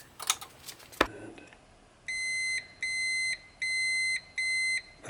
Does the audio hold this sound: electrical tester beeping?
yes